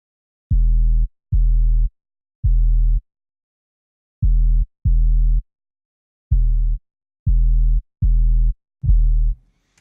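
Short, deep 808 bass tones pulse in an uneven rhythm, nine muffled low hits with the top end filtered away, separated by silence.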